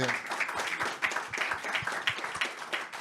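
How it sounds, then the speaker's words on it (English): An audience applauds panelists at the close of a panel session, a steady wash of mid-sized clapping with individual hand claps popping through, moderately near and fairly even for about three seconds. "I would like to ask for a big round of applause to the panelists"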